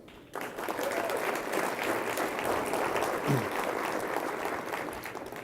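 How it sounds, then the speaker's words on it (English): Applause for agency CEOs at a transportation summit's closing session, starting abruptly and swelling into sustained, even clapping from a large audience heard from a distance. "Please help me give another warm round of applause for our agency CEOs."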